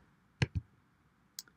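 Computer mouse clicks, a quick double click followed by a single click about a second later, sharp, close and quiet against near silence.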